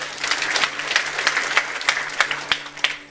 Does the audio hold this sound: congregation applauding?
yes